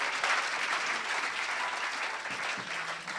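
A church congregation applauding in praise of the Lord, with steady, dense clapping filling the room throughout and no voices standing out.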